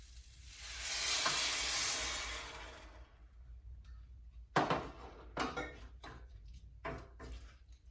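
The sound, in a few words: vegetable stock added to sizzling pan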